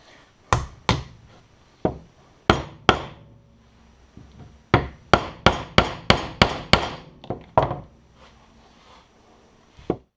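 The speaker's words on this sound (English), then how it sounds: "So I figure we hit this with a hammer" Sharp metallic hammer strikes driving a bolt into a roller lifter, about fifteen, irregular at first and then in a quick run of evenly spaced blows, close and loud with no talking.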